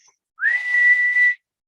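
A single sustained human whistle imitating bird song, held on one steady pitch for about a second after a quick upward slide, clear and close with nothing else heard.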